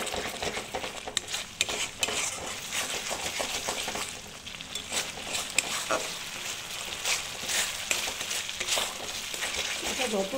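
Curry masala is sautéed in oil until the oil separates, with repeated close scraping stirs over a steady frying sizzle and a few faint utensil clinks.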